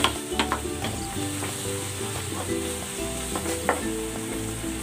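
Ground pork sizzles steadily in a hot pan, a continuous bright frying hiss broken by occasional stirring scrapes and pops, close and fairly loud with no talking.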